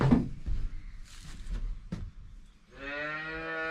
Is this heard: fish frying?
no